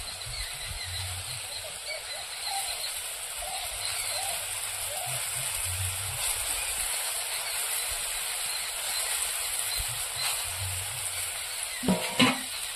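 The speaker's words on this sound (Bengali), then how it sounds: "ঝোলটা ফুটে উঠেছে, এবার মুইঠাগুলো দিয়ে দেবো।" Curry gravy bubbles in a pot on the stove, a steady soft hiss and simmer with faint low rumbling, ending in a couple of brief clinks near the end.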